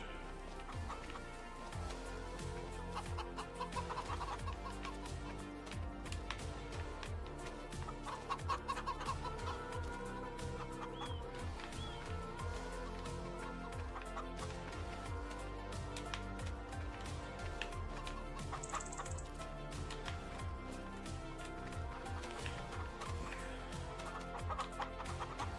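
Game chickens cluck steadily around crowded coops in Farming Simulator 25, a dense, continuous flock chatter at moderate level with small scurrying sounds, and no talk.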